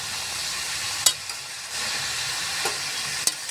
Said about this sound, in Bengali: আলু, কপি, বেগুন, গাজর, বাঁধাকপি একসঙ্গে মিশিয়ে এখন নাড়াচাড়া করে নেব।